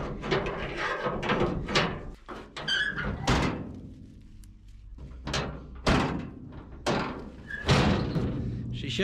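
Door of a 1980 Chevrolet C10 pickup pulled from a junkyard shutting, several loud metallic thunks and slams at irregular intervals, close by, amid clattering handling noise.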